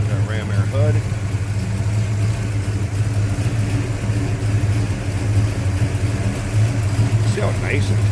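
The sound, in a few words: 1971 Pontiac GTO engine idling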